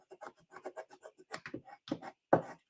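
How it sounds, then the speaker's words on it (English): A bone folder rubs inside the bottom of a small paper box in quick, soft scraping strokes, close and quiet with brief pauses between them. "I just rub inside the bottom to get the box to be glued together"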